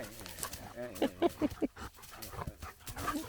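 A dog whimpers and gives a run of short excited yelps and barks, fairly close, in a home setting, with people talking around it.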